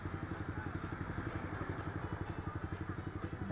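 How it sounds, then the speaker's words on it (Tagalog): Engines of motorcycles rumble steadily in Thailand road traffic, a low pulsing idle with clattering texture, moderately distant. "Marami silang motor dito."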